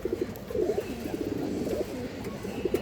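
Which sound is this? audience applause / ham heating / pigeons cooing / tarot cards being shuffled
pigeons cooing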